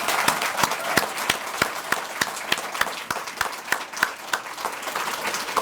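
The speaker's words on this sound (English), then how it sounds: "we're going to give him a Duchenne clap and say thank you very much once again" A lecture-hall audience claps in rhythmic unison to thank a lecturer after an inaugural lecture, a steady, evenly spaced beat of sharp claps running throughout with no talk.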